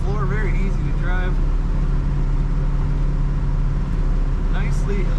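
A 1966 Ford Mustang with an automatic transmission driving along, a loud steady low engine and road drone from inside the cabin, with a person talking over it.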